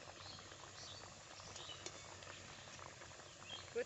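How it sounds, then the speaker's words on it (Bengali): Small semolina and milk-powder pitha fry in hot oil, giving a steady, faint crackling sizzle with tiny pops throughout and no voices. "প্রত্যেকটা পিঠে খুব সুন্দরভাবেই ফুলছে, ভেসে আসছে তেলের ওপরে।"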